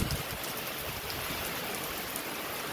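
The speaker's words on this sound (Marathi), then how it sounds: "पहा कसा पाऊस आलाय आपल्या इकडे" A steady outdoor downpour hisses evenly and continuously, a faint, dense wash of raindrops on surfaces in an evening rain shower, with no voices.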